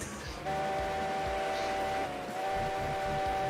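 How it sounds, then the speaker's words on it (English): A Heisler steam locomotive whistle in the Railroads Online game sounds as a long, steady blast over low rumble, drops out briefly, then sounds again. "You can hear it because the Heisler is the kind of locomotive that leaves its whistle behind."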